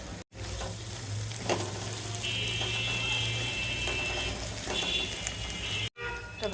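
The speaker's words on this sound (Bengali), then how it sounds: "শুটকিটা এটার সাথে ভাজবো।" Dried fish sizzling in hot oil with fried onion and garlic, a steady close frying hiss with occasional scraping stirs and a low background hum throughout.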